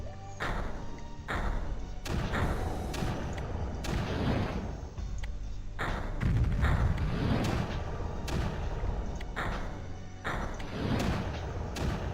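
Mortars firing in the strategy video game Creeper World, a rapid series of deep, booming thumps repeating every second or so, loud and continuous with no talking.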